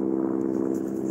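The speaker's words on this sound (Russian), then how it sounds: "А это вертолет" Helicopter flying over a river during the spring ice drift in Yakutsk, a steady droning, humming rotor and engine tone, continuous and moderately loud at a distance, with no voices.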